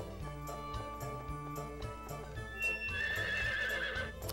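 Horse neighing in the Nintendo 64 farming game Harvest Moon 64, a bright whinnying cry over looping game music with steady hoof clip-clops beneath, rising near the end into a loud, wavering neigh.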